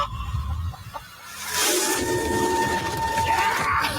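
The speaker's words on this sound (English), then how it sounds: "Got a chicken." A chicken caught on an island clucks amid excited shouting and talk, with a loud, continuous burst of noise and a few sustained tonal calls running under the voices.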